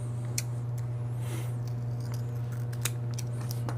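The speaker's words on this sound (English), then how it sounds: "going to get us some scissors to open up our icing" Scissors snip open a plastic icing package in a few quick crisp cuts at close range, over a constant low electrical hum, with no one speaking.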